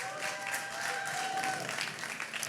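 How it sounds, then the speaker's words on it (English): A conference audience claps for a speaker taking the stage, a brief spell of fairly faint, steady applause heard from a distance in a large hall. "Let's give him a warm round of applause."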